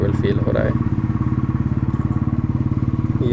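A motorcycle rides over a highway paved with small concrete blocks near Jaleswar, its engine drone broken into fast, even rhythmic thumps; a voice may briefly sound at the start.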